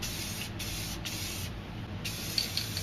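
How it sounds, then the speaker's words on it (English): Black spray paint hissing from an aerosol can onto a painting, a steady soft close spray broken by short pauses between bursts. "Then I'm going to continue and spray some black over here for the mountains."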